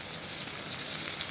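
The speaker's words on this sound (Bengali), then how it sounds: "মশলা কষিয়ে তড়কাটা ঢেলে দিয়েছি।" Tadka poured onto spices already fried down in a pan, giving a soft, even sizzle that stays steady and fairly quiet throughout, with no voices.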